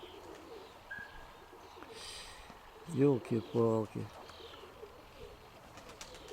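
A few soft, throaty coos from pigeons close by, clustered in the middle, over faint outdoor background and a brief spoken exclamation.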